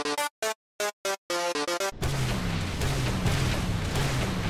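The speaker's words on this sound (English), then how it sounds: "That's the fuel rod cannon, and it's either from CE or it's from Halo 3." The fuel rod cannon from a Halo video game fires in a rapid burst of sharp, ringing synthetic shots with brief gaps, then gives way to a loud, sustained roaring rumble.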